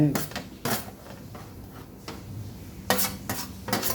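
Bamboo shoots are tipped into pounded chili and worked together, giving a few sharp knocking and scraping bursts with quieter rustling between them. Someone talks over the mixing.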